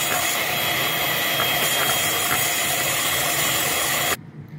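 An electric hand mixer beats granulated sugar into plum cake batter, giving a steady, loud mechanical whir that runs unbroken for about four seconds and then cuts off abruptly.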